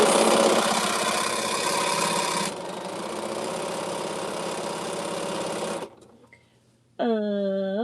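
A sewing machine stitches quilt blocks at a steady, loud motorized hum for several seconds, its pitch dropping partway through, then falls silent before a short tonal whir starts up.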